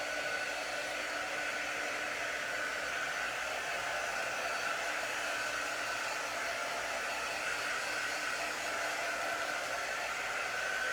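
A Ryobi heat gun heats up with a steady, even blowing hiss that holds unchanged at moderate level throughout, with no talk over it.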